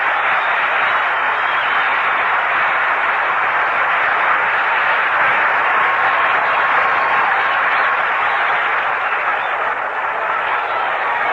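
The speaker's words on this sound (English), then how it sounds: "A round of applause for Roebuck." Sustained crowd applause at a 1962 National League playoff baseball game between the Los Angeles Dodgers and San Francisco Giants, a dense steady roar of clapping and cheering from a large stadium crowd that holds at an even level throughout.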